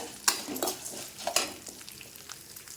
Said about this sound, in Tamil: இப்போ உளுந்தும் கடலப்பருப்பும் வறுபட்டுச்சு இதில் ஒரு நாலஞ்சு வரமிளகா சேர்த்துக்கிறேன்